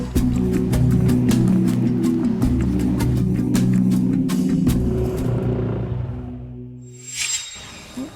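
Heavy low rumble of a car driving, heard from inside the cabin, loud and steady before fading away toward the end, with a brief higher whine near the finish.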